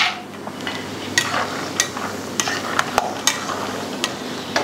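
Almonds frying in a pan for dhaniya panjiri prasad, a continuous low sizzle punctuated by regular sharp clinks and scrapes of a spatula stirring the nuts, close and without speech.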